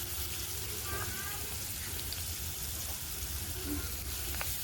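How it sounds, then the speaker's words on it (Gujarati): Chopped dry onions fry in hot oil with cumin and asafoetida in a kadai for pav bhaji, making a constant dense sizzle with faint spoon clinks and no pauses. "તેને પણ ચમચાની મદદ સારી રીતે મિક્સ કરીને તેલમાં ફ્રાય થવા દઈશું।"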